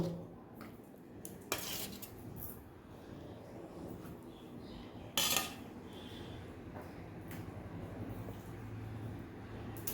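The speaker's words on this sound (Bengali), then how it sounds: "এবার আমি এই বোয়াল মাছটাকে কলা পাতার ওপরে সার্ভ করে দেবো" Dishes and cutlery clinking as boal fish is served onto a banana leaf: a few sharp metallic clinks and taps over a quiet kitchen background, faint and alone.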